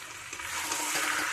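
Green peas tipped into hot oil with already-fried new potatoes hiss in a steady, loud, close sizzle that swells slightly as they settle in, with no talk over it.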